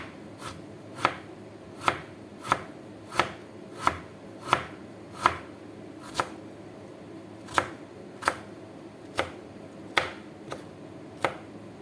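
Knife blade chopping bitter gourd on a cutting board while preparing dal, a steady run of about eighteen crisp, evenly spaced chops, close and clear with no talking.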